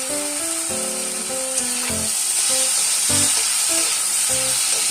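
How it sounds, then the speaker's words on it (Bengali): Chopped onion sizzles in hot oil in a pan, a steady bright frying hiss running throughout at moderate loudness, with faint background music over it. "এবার সামান্য একটু পেঁয়াজ আমি দিয়ে দেবো, কুচানো পেঁয়াজ।"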